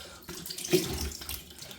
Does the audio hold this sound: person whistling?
no